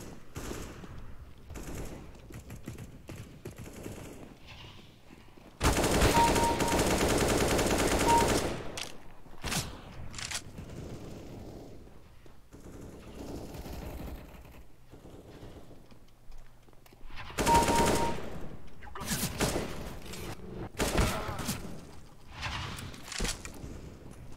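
Video game gunfire in two sustained automatic bursts separated by quieter stretches of scattered shots and clicks, fairly loud against a low background, with no voices.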